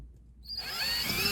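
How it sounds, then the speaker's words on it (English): A power drill spins up and bites into plastic lodged in a hole on a Citroen C5 X7 front seat rear cover, a short, close, high-pitched whine rising from silence. "So I'm going to try and drill it out first."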